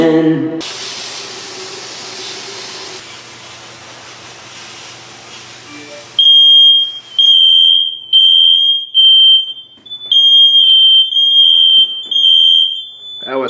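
A smoke alarm goes off in loud, piercing bursts of shrill beeping that repeat in an uneven pattern after several seconds of hissing spray.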